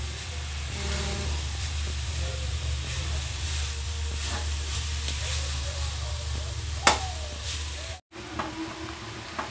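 Grated carrots for Bengali carrot halwa sizzle steadily in a hot pan while being stirred, with occasional scraping knocks over a constant hiss.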